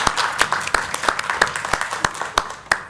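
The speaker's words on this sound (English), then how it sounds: "I think we owe Councilman Skipper a round of applause." Applause at a North Charleston city council meeting, a steady patter of hand claps with sharp individual claps standing out in an irregular rhythm, moderately loud throughout.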